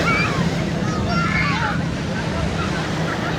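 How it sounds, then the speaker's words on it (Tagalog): Strong surf at high tide at Liwliwa Beach in San Felipe, Zambales, rolls under steady gusting wind, a continuous broad wash that stays loud throughout with faint tonal traces above it. "lakas na ng hangin at low tide, high tide na rin yung dagat, lakas na ng alon."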